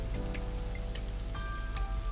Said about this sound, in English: A parasol is getting pelted by the rain.